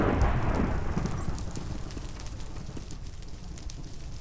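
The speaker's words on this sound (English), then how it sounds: "Just thunder, just thunder." Thunder in a Minecraft game, heard as a loud deep rumble that starts strong and slowly fades into a steady rain-like hiss, with no voices.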